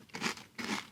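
Crispix cereal being crunched in two loud, close bites, each a dense burst of crisp crackling separated by a short pause, with no talking.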